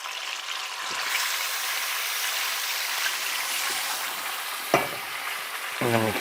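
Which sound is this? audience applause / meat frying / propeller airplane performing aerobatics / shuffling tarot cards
meat frying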